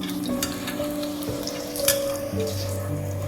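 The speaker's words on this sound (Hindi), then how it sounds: "ये अभी मैं इसको मीडियम फ्लेम पे पका रही हूँ।" Potato tikkis fry in hot oil over a medium flame, giving a steady close sizzle and crackle with a few soft utensil touches and no talk.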